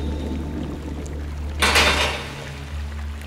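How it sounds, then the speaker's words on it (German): In the video game The First Templar, water douses a torch with one sudden hissing, splashing burst that lasts about half a second and then fades into a low ambient drone. "Wasser. Wasser löscht Fackel."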